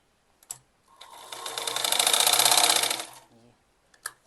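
A sewing machine sews the finishing seam of a strap kurti in one smooth, close run that builds and fades, framed by a couple of sharp clicks before and after.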